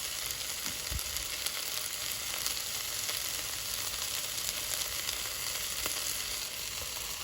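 Tomato paste sizzles in a hot, dry pan while pasta sauce is being made, a dense, steady crackle and hiss that runs without a break and has faint clinks.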